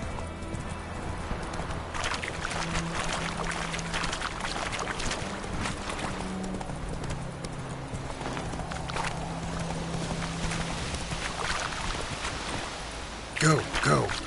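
A horse galloping in the video game The Witcher 3, with steady rhythmic clip-clop hooves throughout and occasional brief voice sounds over them.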